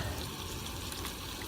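Water trickles steadily into a canning jar packed with ground pork, a continuous low gurgling fill that stays close and even with no voices over it.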